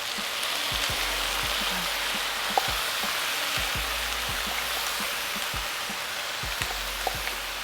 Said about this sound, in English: I've been frying the rice for about 1 minute now.